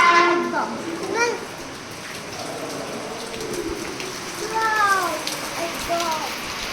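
Steady rain falls at a resort in Shillong, a continuous broadband patter with fog around, while a person talks and other voices are heard intermittently.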